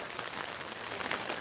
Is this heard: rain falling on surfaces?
yes